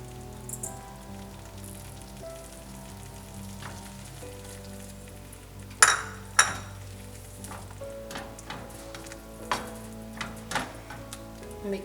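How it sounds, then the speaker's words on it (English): Yogurt being mixed in a pan over low heat while making bread poha, with soft scraping and wet stirring under steady faint sizzling, plus a few sharper utensil taps against the pan. "just turn the heat to low. And mix the yogurt"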